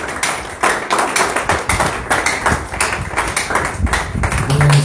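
A church congregation applauding after a sermon, brisk crowded clapping in an irregular rhythm that carries on steadily and loudly, with a brief low hum near the end.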